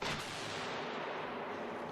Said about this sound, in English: This is an explosion using methane.